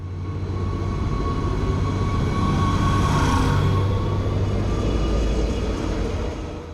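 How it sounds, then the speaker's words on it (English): A River Line diesel light rail train pulls away from the Bordentown station in New Jersey, a steady loud rumble of engine and wheels that swells to a peak and then slowly fades. "we step off and watch the train pull away"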